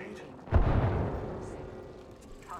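In Apex Legends, a grenade goes off with a heavy booming blast that rumbles and fades over about two seconds. Players talk over the sound.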